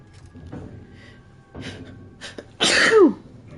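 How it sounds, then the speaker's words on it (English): A single sharp sneeze bursts out near the end, loud and close, after a few quieter breaths and rustles. "I don't want to sneeze."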